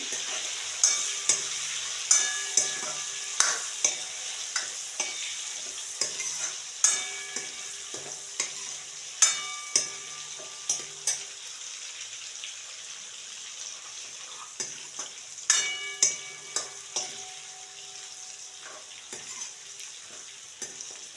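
Dried sukat shrimp frying in a pan, a steady bright sizzle with frequent sharp clicks and knocks of a utensil in bursts, quieting for a stretch midway before resuming.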